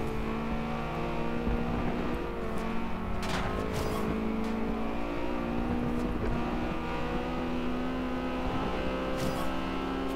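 Car driving in the racing video game Forza Horizon 2 with a wheel controller, a steady engine drone with layered harmonic tones and a few rising revs, continuous and close.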